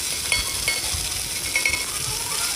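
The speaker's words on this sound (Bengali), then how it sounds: "গ্যাসের ফ্লেমটা একটু কমিয়ে দিয়ে খুব ভালো করে কষিয়ে নেব" Potato and pointed gourd curry sizzles steadily in a pan over a lowered gas flame while being sautéed, with faint scraping and stirring clicks of a spatula across the continuous frying hiss.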